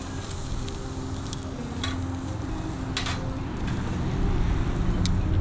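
Shrimp from an urban farm in LA County sizzling on a grill, a steady crackling hiss with scattered pops over a low background hum.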